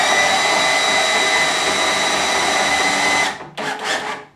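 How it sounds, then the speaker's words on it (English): A cordless drill whines steadily at high speed for several seconds, loud and close, then briefly cuts out before spinning up again. "That's the top speed of my drill right there, my cordless drill."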